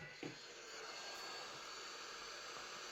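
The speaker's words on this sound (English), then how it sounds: "I'll use this hot air blower" A hot air blower roars steadily up close on a Nokia N8 phone, softening glue, a constant airy hiss with a faint motor hum underneath.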